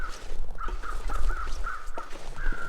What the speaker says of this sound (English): So I can hear the crows.